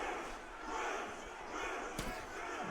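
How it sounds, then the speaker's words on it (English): Arena crowd in UFC 6 chanting Cruz during a fight, a steady roaring, rhythmic mass of voices sustained throughout with one sharp hit near the end. "And the crowd starting to chant Cruz."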